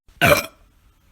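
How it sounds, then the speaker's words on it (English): One loud, raspy burp lasting about a quarter second, then near silence. "I don't think you record all of my burp"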